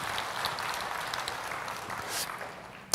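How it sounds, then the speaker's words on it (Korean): A church congregation claps during a sermon, a fairly soft, even patter of many hands spread through the room that swells briefly near the end. "박수 한번 해드려."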